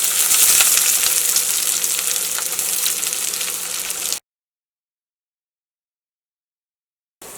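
Sliced onion sizzles and crackles in hot coconut oil, a dense close frying hiss with a few stirring clicks. It runs for about four seconds, then drops into total silence before briefly returning at the end.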